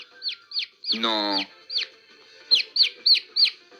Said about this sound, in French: Attendez, on entend un petit oiseau.